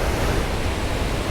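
Valurfossen waterfall on Hardangervidda, Norway, roars in a dense, constant rush of falling water, close and loud throughout.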